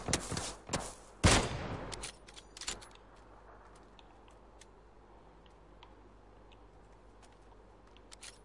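Gunfire in PUBG on the Sanhok map: a quick burst of sharp, loud shots in the first few seconds, then scattered faint clicks and ticks over a quiet background.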